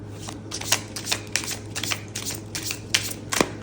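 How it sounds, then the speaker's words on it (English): Tarot cards being shuffled in quick, repeated riffling bursts, close and crisp, about a dozen short rustles in a steady rhythm with no talking. "Do a good hard shuffle."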